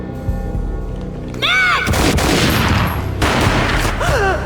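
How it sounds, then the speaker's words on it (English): Gunfire booms in the video game Max Payne: two loud, heavy shots, the first right after a brief shouting voice, each followed by a ringing tail, with another short vocal cry at the end. "A gunshot boomed and she fell down in slow motion."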